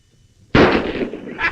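A single sharp gunshot from an old revolver cracks out loud and close, followed by a short, fading echo.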